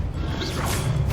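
Depulso spell effect in Hogwarts Legacy, a brief whooshing swoosh with a mechanical crash-like impact over a dense, rumbling game soundscape, loud and close.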